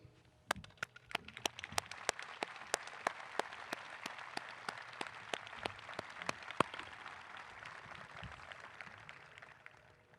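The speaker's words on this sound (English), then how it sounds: "Join me in applauding the outstanding achievements of these 14 students." Scattered applause at a high school graduation ceremony for honored graduates, with distinct individual claps ringing out over a soft, even bed of clapping from a moderately distant crowd.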